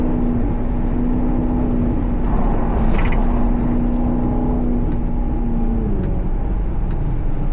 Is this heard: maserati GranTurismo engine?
yes